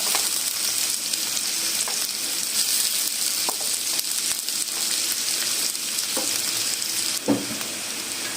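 Onions frying lightly in oil in a pan for aloo andy, a steady close sizzle with a few soft stirring clicks and scrapes and no talking.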